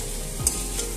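Chowmein tossed with a spatula in a pan gives a short burst of close sizzling with a single scrape and a light clink, and no one speaks.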